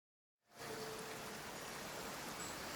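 Rain in the video game Genshin Impact, a steady hiss of rainfall that starts abruptly after a brief silence and continues evenly, alone.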